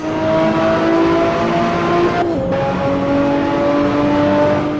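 A BMW race car engine in the Assetto Corsa racing game drones steadily and loudly, holding a sustained tone with one brief dip like a gear shift partway through, with no talk.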